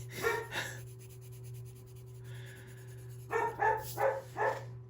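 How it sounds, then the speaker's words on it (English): A dog barks a few times, first in a pair, then in a quicker cluster, close by, over a faint steady hum. "what are you barking at?"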